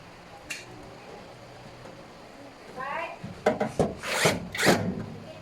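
Parts of a gray three-drawer metal mobile pedestal being screwed together. Brief squeaks, then a run of scraping, grinding tool strokes that grow louder and close together toward the end.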